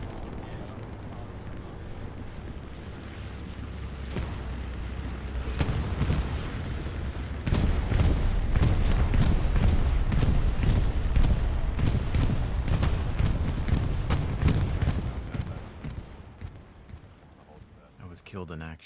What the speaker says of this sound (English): That bomb run sounds like it's pretty successful.